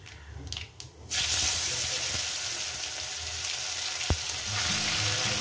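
Black cumin seeds and tomato hit hot oil with a sudden loud sizzle after a quieter opening with faint clatter, then keep frying steadily, with one sharp clink of a utensil partway through.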